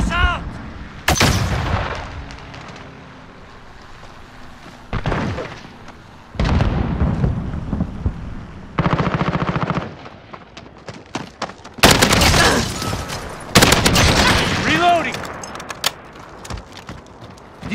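Loud grenade blasts and rapid bursts of automatic gunfire from a Call of Duty Modern Warfare match, with heavy booms and volleys coming in irregular clusters and short lulls between them.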